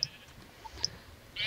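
A sheep in Minecraft bleats in short, faint calls scattered among quiet game ambience, with a slightly louder burst near the end.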